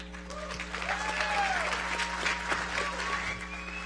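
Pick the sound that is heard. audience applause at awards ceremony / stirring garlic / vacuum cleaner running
audience applause at awards ceremony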